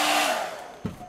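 A hair dryer blows on witch makeup for quick drying, a loud close whoosh that fades within a second, followed by a soft thump.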